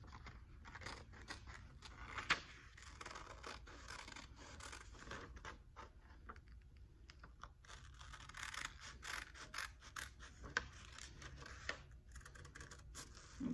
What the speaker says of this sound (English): I'm just cutting along here, along the lines.